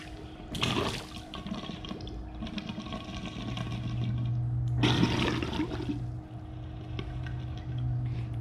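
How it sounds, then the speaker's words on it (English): Water blown out through a snorkel's check valve: two sharp gurgling bursts a few seconds apart with bubbling and trickling between, close and moderately loud. "I'm going to blow out the bottom like that, and all the water is going to leave that check valve right there."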